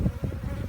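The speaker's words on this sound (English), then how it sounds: "handful of bees and they're all vibrating and they're starting to get aggressive." A handful of killer bees from a swarm exposed by a wind-broken tree in Sierra Vista, Arizona, buzzes loudly and close, a dense, agitated vibrating drone with no talking.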